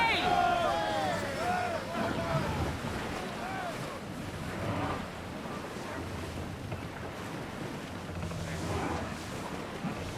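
A sailing ship sets out across the sea in Assassin's Creed Odyssey, with waves washing and wind rushing steadily throughout, plus a few creaking, whistling sounds near the start.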